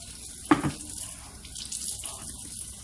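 Water poured from a tap into pizza dough ingredients in a restaurant kitchen, a quiet hissing trickle with one brief splash near the start.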